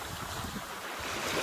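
A gust of wind roars over open water aboard a Hebridean sailboat, steady broadband rushing and waves slapping the hull, building slightly louder toward the end, with no voices.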